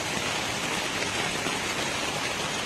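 Steady rain falling outdoors, a dense, even hiss of drops with no letup and no voices.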